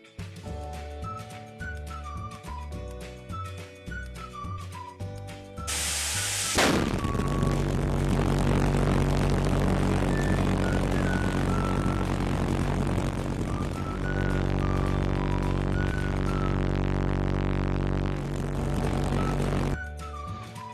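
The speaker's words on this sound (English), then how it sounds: "this unique vehicle you are watching is a Pulsejet engine called Buzzy Bump because of its buzzing sound" A Buzzy Bump pulsejet engine gives off a loud, continuous rough buzzing roar that kicks in suddenly partway through and holds steady, following a quieter stretch of layered tones.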